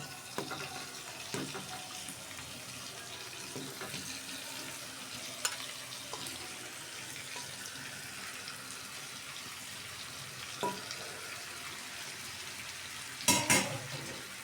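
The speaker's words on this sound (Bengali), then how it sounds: "এখন আমি আগে থেকে পরিষ্কার করে রাখা মুরগির মাংসগুলো দিয়ে দিব" Desi chicken pieces fry in masala, a quiet, continuous sizzle broken by occasional scraping stirs and a few sharp clinks of the utensil against the pan near the end.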